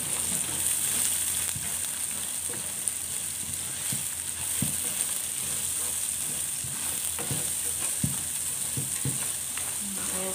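Onions sautéing in cooking oil produce a steady close hiss and crackle, broken by light stirring taps throughout, with no speech.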